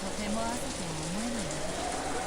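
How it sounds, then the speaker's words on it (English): Steady, dense rain falls in the Umineko visual novel game, a constant hiss under a wavering tonal melody line. "All that could be heard was the sound of the rain, which hadn't stopped falling since last night, and the howl of the wind."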